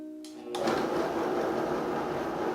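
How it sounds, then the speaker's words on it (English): A Vitamix blender starts up on its lowest speed to grind hummus, a steady loud motor whir with churning after a brief quiet start, continuing evenly throughout. "And this is the initial grind. We do that on low speed."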